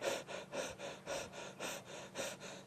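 Lions breathing hard after feeding on a young buffalo, giving steady rhythmic panting of about nine quick breaths, close and fairly quiet, with no talk.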